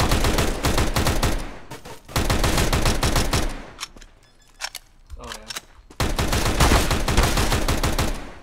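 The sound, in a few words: AK rifle gunfire in video game Counter-Strike: Global Offensive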